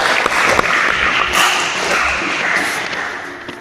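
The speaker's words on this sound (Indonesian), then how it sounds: "tepuk tangan untuk kita semua" A classroom of vocational students applauds together, a short wash of clapping from many hands in an indoor room, thinning out toward the end.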